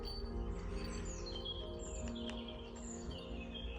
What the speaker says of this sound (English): Even the great tits and blue tits are singing,